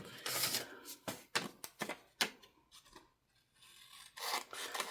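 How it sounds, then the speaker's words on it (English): Scissors cut through a big, thick piece of paper in a series of close, crisp rasping snips of uneven rhythm, with brief pauses between cuts in an otherwise quiet room. "Yeah, but they're just scissors."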